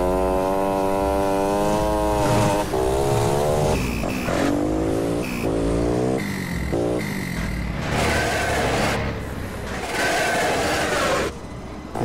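A moped engine revs up and down repeatedly, loud and close, with rising and falling whining pitch sweeps and brief pauses between revs.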